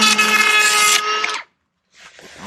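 A Milwaukee power planer shaves scrap lumber from a bandmill, giving a loud, close, high whine for about a second and a half before cutting off into silence, with faint noise returning near the end.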